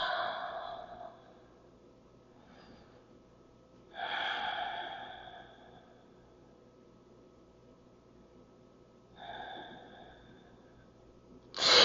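Slow yoga breaths, three long airy exhales spaced several seconds apart with quiet pauses between, close and fairly soft, ending on a sharper breath.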